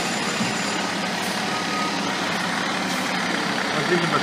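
A brand-new FDNY tower ladder fire truck sounds steady, regular reversing beeps over a loud, continuous diesel engine rumble, with faint voices in the background.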